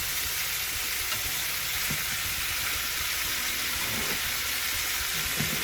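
Oxtail and goat meat browning in a pot give a steady, close, loud sizzle and frying hiss that runs without a break, with faint stirring clatter underneath.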